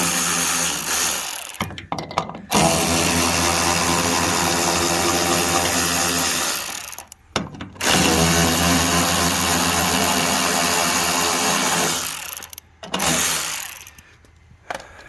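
A power tool whines loudly and continuously at close range while removing 10mm bolts on a Toyota pickup during a fuel pump install, running in long sustained bursts broken by short pauses.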